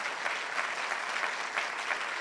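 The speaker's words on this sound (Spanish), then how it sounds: "Dele más fuerte ese aplauso al Señor" Steady, loud applause from a church congregation, dense clapping that fills the room evenly with no break.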